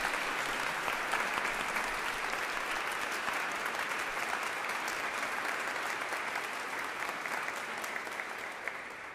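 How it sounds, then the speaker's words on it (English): A congregation applauds at a college Christmas carol service, dense, even clapping filling a reverberant chapel, steady for several seconds and slowly fading toward the end. "with a round of applause."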